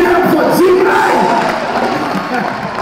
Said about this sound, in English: Clap your hands, give it up for G-Man!